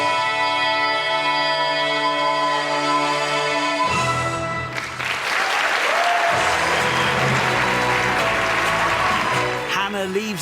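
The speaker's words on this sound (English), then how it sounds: "Hannah leaves the stage to huge applause." Huge applause from a theatre audience erupts as the performer, Hannah, leaves the stage after a Shrek show; music fades out and the dense clapping swells, filling the room steadily for several seconds.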